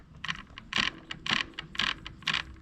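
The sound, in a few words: Shimano EP8 e-bike motor gears rattling as they mesh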